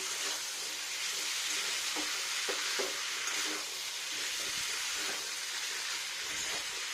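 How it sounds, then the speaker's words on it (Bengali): Spiced masala for a vegetarian capsicum and paneer curry sizzles steadily in a pan while being stirred, with scraping clinks of the spoon at intervals and no voices. "এবার নাড়া দেবো ভালো করে।"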